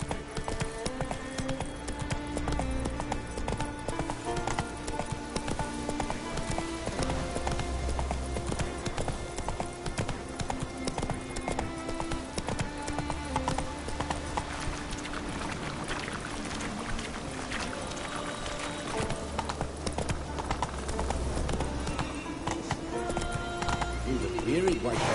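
Horse hooves clip-clop steadily throughout in The Witcher III video game, running under game music and spoken voices.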